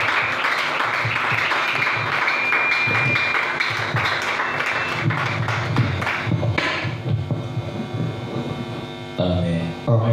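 A church congregation applauds during a Sunday worship service, a dense, steady wash of clapping that fills most of the stretch and thins slightly toward the end.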